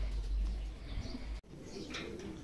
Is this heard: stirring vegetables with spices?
no